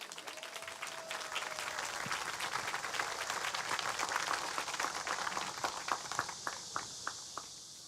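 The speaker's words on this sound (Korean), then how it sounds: "힘찬 박수 부탁드립니다." An audience at a Korean memorial plaza unveiling ceremony claps loudly and continuously, the dense applause thinning into a few separate final claps near the end.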